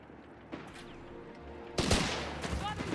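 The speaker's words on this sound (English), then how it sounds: "Machine gun there out in the open" Machine gun fire in the World War II strategy game Company of Heroes 3, rattling bursts with sharp cracks and a louder volley midway amid battle noise, set back in the game mix.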